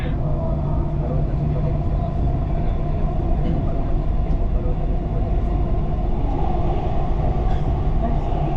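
Dubai Metro train running between stations, a steady loud rumble and hum of the carriage rolling along the track throughout, with faint onboard announcement voices in the background.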